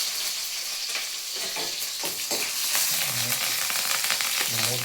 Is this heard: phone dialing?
no